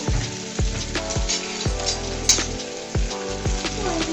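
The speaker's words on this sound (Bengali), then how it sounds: "আলু, আর বেগুন সিম কিন্তু ভাজা হয়ে গিয়েছে।" Potato, eggplant and beans fry in oil, a continuous bright sizzle broken by repeated stirring knocks and occasional clinks of a utensil, close and loud.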